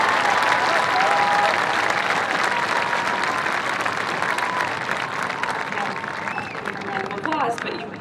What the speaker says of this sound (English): Please join me in a round of applause for these brave individuals